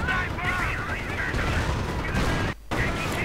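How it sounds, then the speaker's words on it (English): .30 caliber machine gun fire in a WWII strategy video game comes as dense, continuous rattling bursts mixed with other battle noise, broken by one brief gap. "MG's advancing through the 30 caliber fire"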